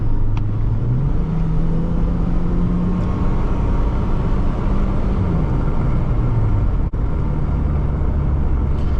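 A 2006 Subaru Forester 2.5 X engine pulls uphill, a steady, loud low drone from inside the cabin with engine pitch rising and settling as it climbs, accompanied by constant road rumble and no speech.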